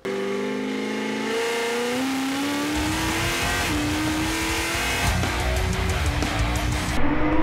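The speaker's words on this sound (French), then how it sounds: "il y a le Arthur pilote qui va vouloir flinguer les pneus" A 1294 hp Fiat Multipla accelerates hard, its engine note climbing steadily through the gears with tire squeal mixed in, loud and close throughout.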